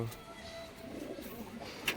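Pigeons of the Kaldam and Malbai breeds coo softly in a loft holding young birds. The low, rolling coos are fairly faint and close, with light rustling around them.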